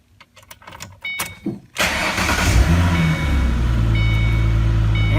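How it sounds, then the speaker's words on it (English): A car engine cranks and catches, then settles into a steady, loud idle that runs continuously close by with no talking over it. "we're gonna have to listen to the vehicle in the background"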